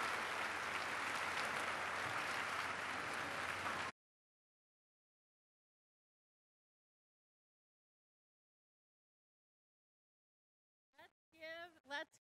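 An audience at a university orientation event bursts into dense, steady applause for a few seconds, then cuts off into silence before a voice briefly speaks.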